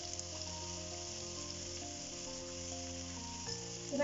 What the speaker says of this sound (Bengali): আমি এটাকে তেলের মধ্যে আগে খানিকক্ষণ নেড়ে নিলাম